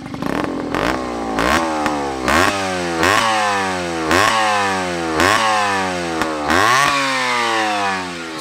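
A rebuilt 1982 Honda MB5 50cc two-stroke motorcycle engine revs up repeatedly, each rise ending in a sharp drop, loud and close with a buzzy, raspy tone.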